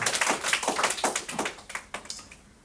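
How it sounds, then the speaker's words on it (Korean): A church audience at a New Year Bible gathering claps together in a short burst of applause, dense and close, fading out over about two seconds with no talking. "우리 현빈에게 박수 한번 주실래요?"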